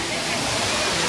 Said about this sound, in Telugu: ఇప్పుడు వాటర్ ఫాల్స్ దగ్గరికి వెళ్తున్నాం.